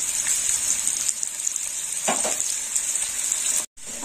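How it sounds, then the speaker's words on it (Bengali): Potato pieces frying in hot oil for a fish sukto, a steady bright sizzle with a few stirring scrapes near the middle, holding close and even until a brief cut to silence just before the end. "আলুটা একটু ভাজা হবে।"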